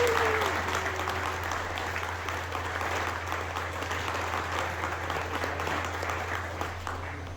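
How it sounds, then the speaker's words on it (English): Audience applause at a pinball tournament award ceremony, a steady, moderately quiet round of clapping from the crowd over a low hum, beginning right after a brief voice. "the big applause for the 4th ranked player goes to Ben Moser."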